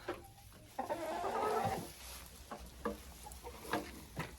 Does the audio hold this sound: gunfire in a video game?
no